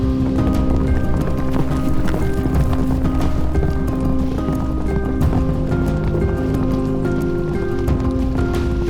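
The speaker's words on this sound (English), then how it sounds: "The yaks of Maqu also love running across the wetland grassland." Yaks of Maqu running across wetland grassland on the Qinghai-Tibet Plateau, their many hooves making a steady, dense clatter of clip-clop beats over soft wet ground, continuous and fairly loud throughout with no talking.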